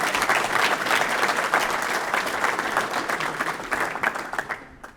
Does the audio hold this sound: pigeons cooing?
no